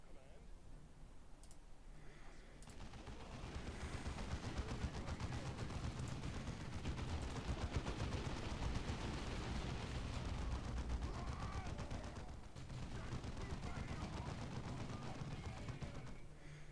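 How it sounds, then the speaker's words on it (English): Heavy bolter fire from Dawn of War 2 on a space marine battlefield, a dense sustained rattle of rapid gunshots building and holding for over ten seconds, with a voice heard briefly under the din. "Our heavy bolters are deadly, but they take time to set up and have a limited field of fire."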